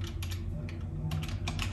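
Keys clatter on a Logitech computer keyboard attached to an M1 Mac mini, with a few quick bursts of typing separated by short pauses over a low, steady background hum.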